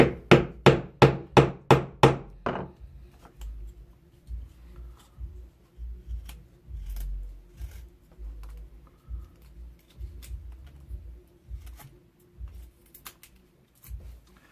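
A Mora bushcraft knife is batoned through wood, a quick run of about eight sharp, evenly spaced cracking strikes at first, then lighter scattered knocks and rustling, close and without speech.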